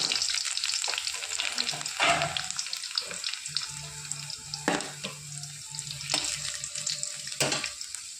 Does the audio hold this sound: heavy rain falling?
no